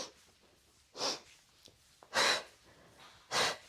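Three heavy, deliberate breaths, sharp exhales spaced about a second apart, from someone doing a Pilates exercise, close and clear against a quiet room.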